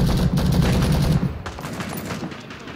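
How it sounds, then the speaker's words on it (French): Rapid gunfire from rifles in the Vietnam War shooter Rising Storm 2: Vietnam, a dense burst of close shots for over a second, then thinner scattered shots and battle noise trailing off. "Merde, j'ai tiré sur une de mes potes."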